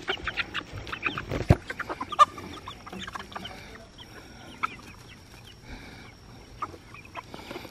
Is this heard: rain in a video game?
no